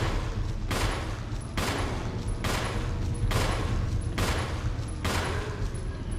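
Jill firing gunshots in Resident Evil Remake on Wii, six evenly spaced sharp shots about a second apart, loud and close, each followed by a brief decaying tail.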